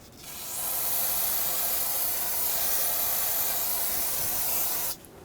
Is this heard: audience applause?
no